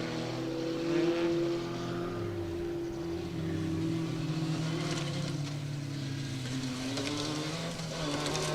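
A rally car's engine on a forest stage of the Woodpecker Stages Rally, sounding a little rough, with a continuous droning note that rises and falls as it passes, moderately loud and heard without voices.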